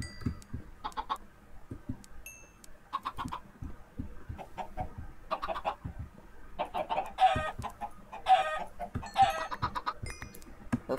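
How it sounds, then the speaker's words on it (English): Chickens in the Minecraft video game cluck in short, repeated bursts through the clip, moderately loud, with several clucks overlapping toward the end and no talking. "we'll keep those chickens."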